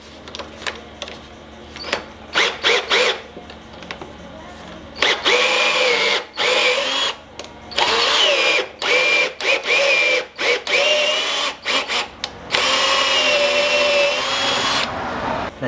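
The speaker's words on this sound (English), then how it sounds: "Put my drill on and we'll whiz that out." A power drill whirs in repeated short bursts while working on a Ford Escort RS Cosworth, starting and stopping over and over, close and fairly loud with brief pauses between runs.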